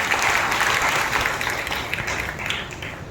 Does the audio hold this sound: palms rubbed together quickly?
no